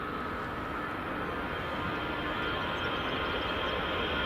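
EasyJet airliner rolling along the runway at Edinburgh Airport, a steady broadband jet roar heard from a distance outdoors, constant and unbroken throughout with no voices.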